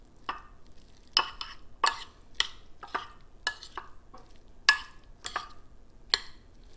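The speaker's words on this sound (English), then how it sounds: "I'm going to mix up all that filling with the shrimp" A spoon mixes a shrimp filling for stuffed mushrooms in a bowl, giving about a dozen crisp, evenly spaced clicks and scrapes, close and unaccompanied.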